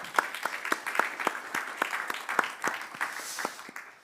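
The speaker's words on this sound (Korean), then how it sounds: "우리가 감사와 영광 올려드릴 주님께 다시 한번 감사의 박수 올려드립니다." A church congregation claps during a Sunday worship service, sharp rhythmic hand claps in a steady beat, moderately loud in a reverberant room.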